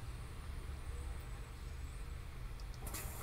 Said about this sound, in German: Tür wieder zu